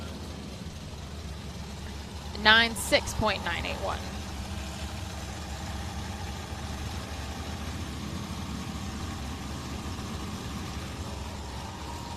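Off-road race buggy engines idle with a low steady rumble at a racing event, one revs briefly in a sharp burst, and someone talks over the noise.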